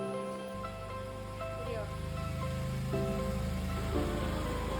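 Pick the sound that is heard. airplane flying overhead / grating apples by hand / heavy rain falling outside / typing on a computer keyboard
heavy rain falling outside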